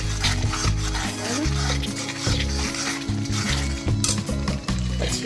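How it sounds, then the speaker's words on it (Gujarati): Paneer bhurji being stirred with butter in a pan, a spoon scraping and clinking in steady strokes over a soft sizzle, with a low droning hum running beneath throughout. "અને એને હલાવી દઈશું સરસ"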